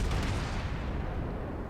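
Ship's main gun firing in a naval video game, a heavy cruiser with 203mm shells, a single deep rumbling boom that fills the short moment and rolls away, no voices over it.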